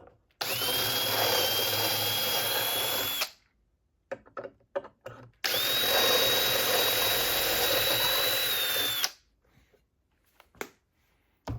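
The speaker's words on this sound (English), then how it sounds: "we're ready to be able to drill the holes" Power drill boring holes for knobs on cabinet drawer fronts, using a bit from a True Position Tools kit: two loud, sustained whining bursts of about three seconds each, separated by small clicks and handling noises.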